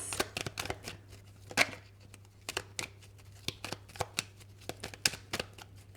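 Tarot cards being shuffled by hand for a daily draw, a close run of crisp riffling snaps and slaps in irregular quick bursts over a faint low hum, with no talking.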